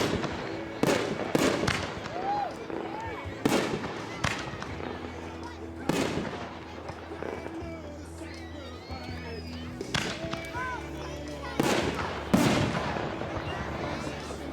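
A fireworks cake fires fish tank shells with a jellyfish effect outdoors, giving a string of loud booming launches and bursts spaced a second or two apart, with crackle between them and people talking over the display.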